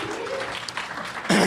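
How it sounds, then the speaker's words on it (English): Audience applause in a cinema before a screening of the 1968 Peter Yates classic Bullitt, a steady broadband patter of clapping that swells louder near the end. "And this is where you applaud."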